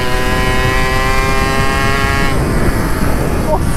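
A souped-up moped is ridden hard, its engine whining at a high, steady pitch close by. The engine note cuts off partway through while rough wind and road noise continue.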